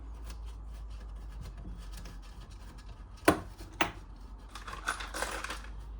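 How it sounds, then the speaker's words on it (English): Tiny nuts and washers from a Mamod steam engine strip-down drop into a small container, giving two sharp metallic clinks followed by a scatter of lighter rattles over faint background hiss. "a little container, just to put your little bits and pieces in, because these are tiny little nuts and washers."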